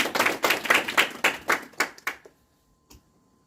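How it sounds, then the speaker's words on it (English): A round of audience applause at a talk on spiritual duties, a few sparse hand claps in an uneven rhythm that thin out and stop after about two seconds, then near silence with a last stray clap. "we will give one round of applause"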